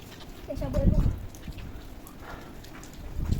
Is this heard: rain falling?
yes